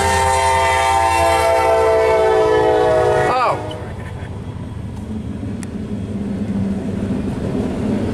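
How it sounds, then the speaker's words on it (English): A loud train horn blares with rich sustained tones, then cuts off as the heavy rumble of a passing coke train's rail cars continues, close and steady. "Coke train."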